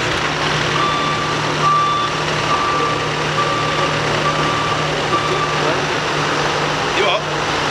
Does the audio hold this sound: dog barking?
no